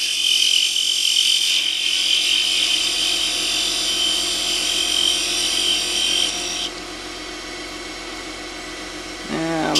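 Bowl gouge cutting a miniature wooden hollow form on a lathe, a steady close hiss of shaving wood that drops abruptly, then a brief whir as the spin changes near the end.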